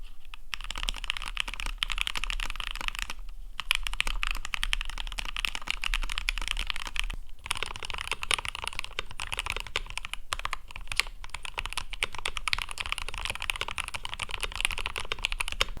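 Steady close typing on an IKI68 Aurora mechanical keyboard, a fast continuous patter of crisp keystrokes with a couple of brief pauses, no voices.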